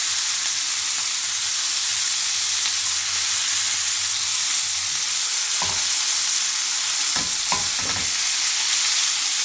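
Pork paupiettes browning in a frying pan give off a loud, steady sizzle, with a few short clinks and scrapes of a utensil near the end as they are turned.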